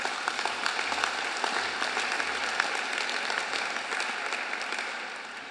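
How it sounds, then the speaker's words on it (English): A crowd claps in a round of applause at a university graduation and chancellor investiture ceremony in Sydney, with dense, sustained clapping that is loud and fairly close, tapering slightly toward the end, with no talking. "Now, that deserves a round of applause."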